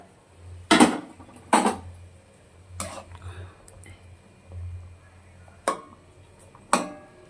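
A metal lid lifted off a cooking pot of boiling potatoes and green chillies, several sharp clanks and rattles spaced a second or so apart over a low bubbling hum, with quiet murmuring between them.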